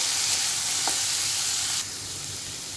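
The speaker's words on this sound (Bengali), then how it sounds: "একটু কিশমিশটা ভাজা ভাজা হয়ে এলে এর মধ্যে দিয়ে দিচ্ছি কেটে রাখা সবজিগুলো" Chopped beans, carrot and potato frying with raisins in a hot pan, a dense close sizzle that drops slightly in loudness partway through.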